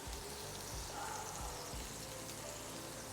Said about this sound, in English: Who doesn't love a good sizzle?